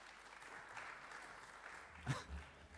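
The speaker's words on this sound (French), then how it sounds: "Je vous demande d'applaudir." An audience at a French talk about an open-source bionic hand claps in faint, steady applause, with one brief louder knock near the end.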